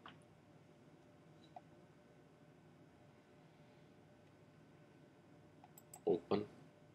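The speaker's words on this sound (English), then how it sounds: "Just double click." Computer mouse clicks, heard as two quick close clicks near the end after a long quiet stretch of faint room noise, with no talking.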